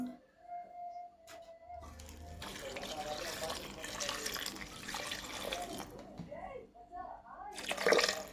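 Water pours steadily from a small pot for several seconds with a splashing, gurgling rush, ending with a few drips and a clink.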